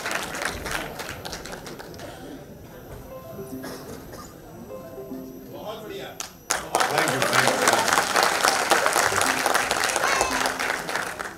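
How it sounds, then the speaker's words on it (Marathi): An audience at a public event honouring Veer Savarkar breaks into loud, sustained applause that swells midway and continues to the end, with someone speaking over it before the clapping builds. "त्यांच्यासाठी पण जरा जोरदार टाळ्या आपण वाजवूया. जोरदार टाळ्या तीनही मंडळींसाठी."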